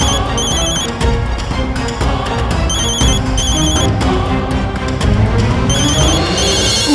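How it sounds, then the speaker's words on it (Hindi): A telephone rings in a television drama scene, its bright electronic trill repeating in short regular bursts over a dense, loud backdrop of music and sound. "फोन उठा उठा फोन।"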